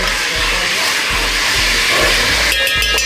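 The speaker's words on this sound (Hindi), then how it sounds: "और ये अब हम लहसुन डालेंगे" Garlic frying in a pan with steady hissing sizzle throughout, loud and close, with a brief brighter crackle near the end; no talking.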